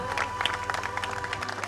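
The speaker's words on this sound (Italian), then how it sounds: "Un applauso." Brief applause for the president at the presentation of FC Lamezia Terme football club, a moderate patter of many hands clapping in a room, fairly soft, with faint voices underneath.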